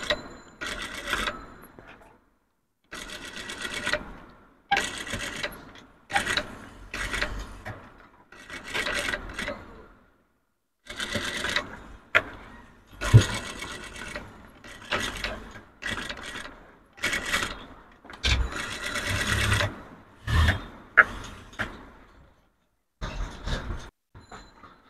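A sewing machine top-stitches a three-piece dress in repeated bursts of rapid mechanical whirring, each run lasting a second or two and separated by short pauses.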